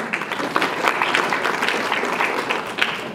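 A live comedy audience in Burundi claps steadily and densely, a close, continuous wash of hand claps with a few sharper peaks, and no voices stand out.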